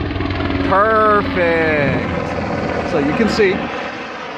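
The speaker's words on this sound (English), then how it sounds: "Now this is a military helicopter. Oh, and it's flying right over." A military helicopter passes close overhead, its rotor drone steady and fairly loud beneath someone talking, with a strong tonal sweep rising and falling as it flies by.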